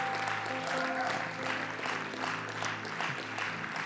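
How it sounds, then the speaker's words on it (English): A crowd claps steadily in a large room, a dense wash of applause at moderate distance, with some tonal hum lingering underneath. "if you are not jealous, you can clap better."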